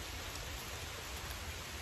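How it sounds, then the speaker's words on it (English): Steady rain hisses evenly and softly, a constant wash of falling drops with no voices. "man, this rain is pretty timely."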